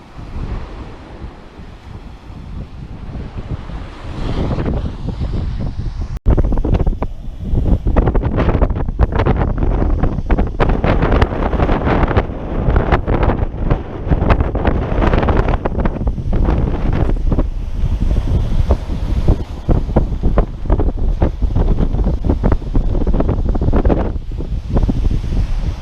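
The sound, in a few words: cold wind on a beach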